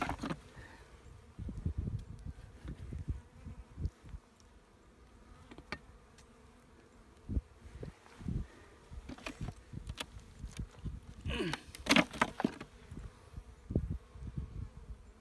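Honeybee workers buzz around an opened hive during a spring cleaning, their drones faint and steady with frequent louder passes as single bees fly close to the microphone, no voices.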